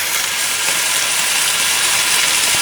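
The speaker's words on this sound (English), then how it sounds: "I've just added the first batch of beef, and I'm just going to stir those and turn them with the spatulas" Diced beef sizzling in a hot pan as spatulas stir and turn it while browning for a beef stew, a loud continuous hiss of frying with little variation.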